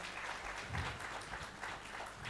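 Audience applause at a business talk on direct-to-consumer brands, a brief patter of clapping from a crowd, fairly faint and steady.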